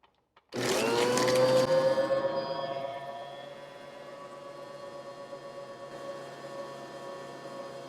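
An electric stand mixer creams butter and sugar for a chocolate pound cake batter, starting abruptly with a loud motor whine that settles into a steady, continuous hum and rattle close by, with no talking.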